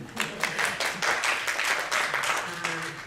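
Audience applause at a 2015 social economy academic conference in Korea, a steady wash of clapping from a seated crowd lasting about three seconds with no voices over it.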